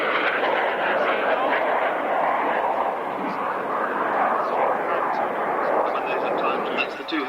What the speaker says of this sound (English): That's the 2 Hercules aircraft, and they are coming in from the right to do their tactical approach and landing.